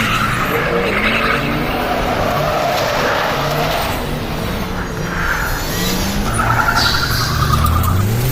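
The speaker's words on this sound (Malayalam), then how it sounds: "ഞാൻ ഫുൾ സ്പീഡിലാണ് പോകുന്നത്, ഫുൾ റേസ് ചെയ്ത് പോവാണ്." Arcade car racing game at a kiosk in the Dubai World Trade Center, a car skidding at full speed, with continuous engine roar and tyre screech that stays loud and steady throughout, no talking.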